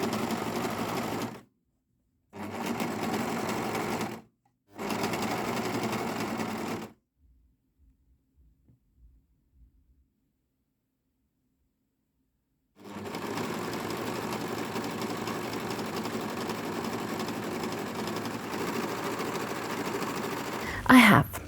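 A sewing machine stitches the center back seam of a purple dress in quick rhythmic bursts: three short runs separated by pauses, a long silence, then a longer continuous run, close up with no talking.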